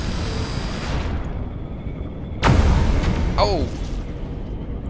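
Weapon fire from a ship in the Pulsar: Lost Colony space game: a sudden heavy boom, then a second sharper blast with a falling whine. A low rumble runs underneath, and a voice gives a short exclamation.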